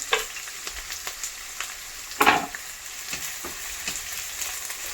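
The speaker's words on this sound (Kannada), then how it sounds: "ಎಣ್ಣೆ ಕಾದಿದೆ, ಈರುಳ್ಳಿ ಹಾಕ್ಕೊತಾ ಇದ್ದೀನಿ." Onions hissing as they fry in hot oil for egg bhurji, a continuous sizzle with scattered pops and one louder burst of spattering midway, close and without speech.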